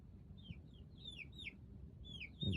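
An old desert bird resting indoors, with a series of faint, high, down-slurred chirps repeating at an uneven pace over a quiet room hum, and a soft thump at the end.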